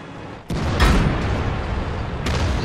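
Heavy tank cannon blasts in a World of Tanks battle: a sharp, booming shot followed by a deep rumbling report, then another fainter crack a moment later, all loud and close.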